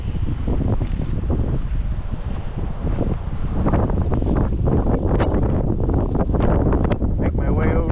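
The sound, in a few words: wind blowing at Kaercher Creek Park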